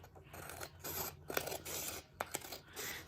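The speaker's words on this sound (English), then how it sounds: "So I am going to use my scissors for that. So I'm cutting right along the edge." Scissors cut along the edge of a sheet of paper, giving quiet, close rasping snips and scrapes in a loose irregular rhythm with no talking.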